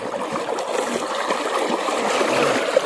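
Strong rush of pressurised water from a well-fed flow, a steady close, broadband gush holding even throughout without pauses and swelling slightly toward the end.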